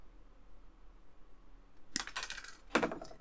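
Plastic part F62 snipped off a model kit sprue from a DeLorean build: two sharp, close clicks of the cutter about a second apart, following a quiet stretch with no talking.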